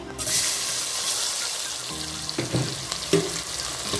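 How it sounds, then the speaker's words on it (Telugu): Two medium onions dropped into hot oil left from frying chicken, a continuous loud sizzle with a few stirring knocks and scrapes near the end, no voices. "ఇప్పుడు ఈ కాగిన ఆయిల్లోనే 2 మీడియం సైజు ఉల్లిపాయలు వేసుకుందాం."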